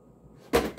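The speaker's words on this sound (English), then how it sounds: "Wobbling so bad it knocked the smoke detector boxes off the display" Cardboard smoke detector boxes knocked off a store display by a wobbling Casablanca 20th Century Gallery Edition 52-inch ceiling fan make a sudden sharp clatter after quiet, then a second smaller knock right after.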